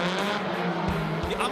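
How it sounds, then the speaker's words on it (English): Drift race car straining to pull away, its engine roaring loud and close while tire squeal rises in bursts under an announcer's talk. "The Amamiya car trying to pull away."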